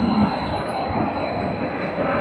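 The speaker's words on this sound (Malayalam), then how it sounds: "ഒരു ട്രെയിൻ വരുന്നുണ്ട്." A train pulls into a Vienna station with a steady, loud mechanical rumble and a thin high whine held above it, growing slightly toward the end.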